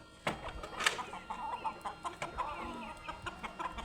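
Miniature backyard chickens cluck in a home garden, with repeated soft clucks and one louder squawk near the start, fairly close and moderately quiet amid faint background noise.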